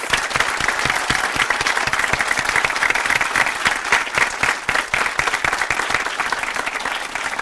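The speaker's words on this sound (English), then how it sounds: "Please give them one more round of applause." A crowd at a naturalization ceremony for new citizens applauds steadily, a loud, dense patter of many hands that holds evenly throughout without voices over it.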